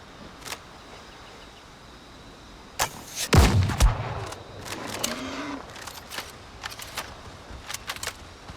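A gun fired in a pirate survival video game while hunting a boar: one sharp loud blast with a booming low tail, followed by scattered fainter clicks and small impacts.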